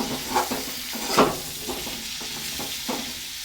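Dry red chillies and bay leaves fry in hot mustard oil with a steady sizzle, broken by a few stirring scrapes and clinks in the pan.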